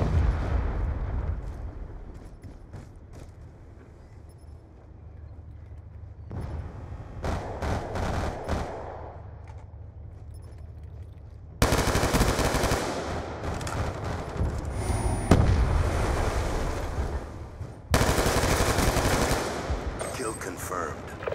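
A Hellstorm missile strike in Call of Duty Black Ops 2 hardcore multiplayer: rattling gunfire and impacts build to loud, broadband explosive blasts in several bursts, with quieter stretches between them and occasional radio-style voice callouts.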